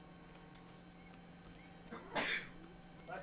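A single sneeze in a quiet room, close and fairly loud, with a faint earlier click and some soft noises after it.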